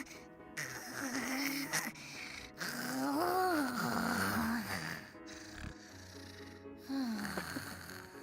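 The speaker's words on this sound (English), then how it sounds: "Her snoring and gnashing of teeth like tremors" A sleeping character snores in the video game Yumeutsutsu Re:Master, several drawn-out rasping breaths with rising and falling pitch separated by short pauses, close and fairly soft.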